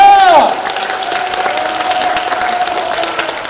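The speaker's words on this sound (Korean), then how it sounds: "박수! 뜨거운 박수!" Audience applause at a trot singer's outdoor expo concert in Hamyang, a steady crowd clapping that carries through alongside a sustained musical tone and faint voices.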